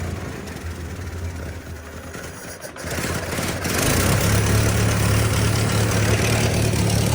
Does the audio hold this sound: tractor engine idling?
yes